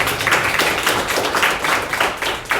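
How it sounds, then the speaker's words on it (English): Audience at a LinkedIn Local Toronto meetup panel clapping together, a close, fairly loud burst of mixed hand claps with a loose rhythm throughout. "We should clap."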